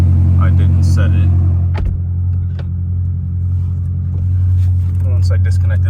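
A 2013 BMW M5 engine idles smoothly after a fuel system repair, a steady close low hum with a faint click and a brief dip partway through, and no talk over it.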